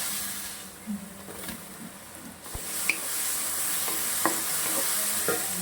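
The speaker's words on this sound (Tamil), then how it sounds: "போட்டு நல்லா கிண்டி வைக்கணும்." Chicken cooking in a pan is stirred after salt goes in, a steady sizzle under scattered scraping clinks of the spoon against the pan, close and unaccompanied by speech.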